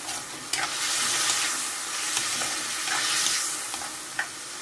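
Chicken stir-frying in hot oil in a pan with beansprouts: a steady, close hiss of sizzling with occasional sharp spatula clicks and scrapes against the pan, no voices.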